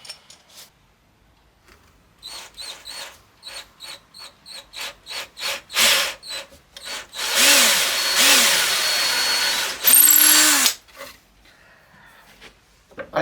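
A drill bores a hole in a wooden pizza peel, first in a string of short rhythmic pulses, then a louder sustained whine with pitch swoops as the bit bites, a final burst, and a quick stop.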